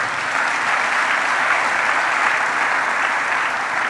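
A church congregation applauds in a steady, dense wash of clapping that holds at an even, full level throughout, with no voices standing out above it.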